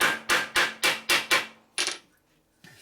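Hammer blows flattening a metal part on a 1957 Harley-Davidson panhead engine, six evenly spaced sharp ringing strikes followed by a softer seventh hit and a faint scrape, close and loud.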